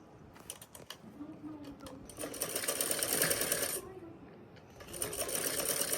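A sewing machine stitches a farshi shalwar, its quick mechanical whir running in bursts close by, starting and stopping with brief rattling clicks while someone talks over it.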